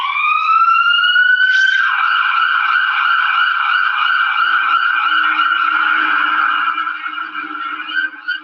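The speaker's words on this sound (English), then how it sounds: "here I used an emergency car sound" An emergency vehicle siren wails steadily and loudly in a continuous rising and falling tone, used as a sound effect, with a faint low rumble entering under it toward the end.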